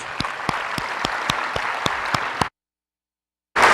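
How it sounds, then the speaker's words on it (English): Scattered audience applause at a conference introduction for the NMEDA executive, a few loud individual claps standing out over a steady patter for a couple of seconds, then a brief silence before the clapping resumes. "So let's give him a round of applause, please."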